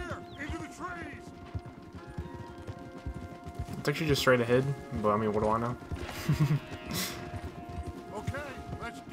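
Horses clip-clop along a path in Red Dead Redemption 2, a steady hoof rhythm running under close conversation with game ambience throughout.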